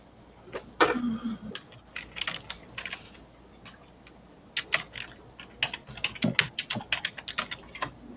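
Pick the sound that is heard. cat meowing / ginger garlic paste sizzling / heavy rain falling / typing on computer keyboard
typing on computer keyboard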